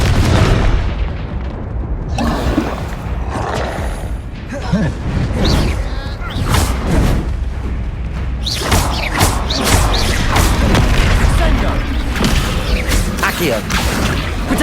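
A fire-blast spell erupts in the Hogwarts Legacy video game, with several booming explosive bursts and crashes over a busy battle soundscape, mixed with in-game voices.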